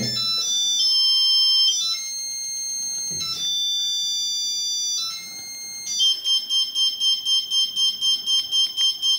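A paranormal detector box in theremin mode sounds alone, first with high electronic tones that hold and shift pitch, then with a steady run of rapid pulsing beeps.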